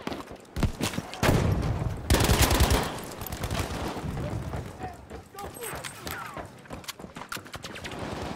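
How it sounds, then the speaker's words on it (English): Light or medium machine gun fire in the Battlefield 5 game, bursts of rapid shots cracking at varying distances, loudest early on and then scattered and fainter amid ambient battle noise. "I think that was an LMG or an MMG."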